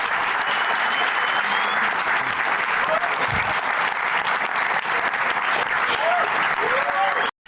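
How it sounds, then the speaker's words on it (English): A large crowd cheers and applauds at the Microsoft Surface Duo product announcement, a dense, loud, steady roar of clapping and shouting that holds for about seven seconds before cutting off abruptly. "Listen to that crowd."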